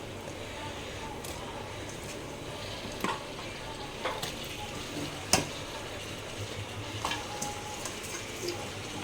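Raw washed chicken going into a hot pan for a spicy home-style curry, giving a steady close frying sizzle with faint scraping and stirring taps over it.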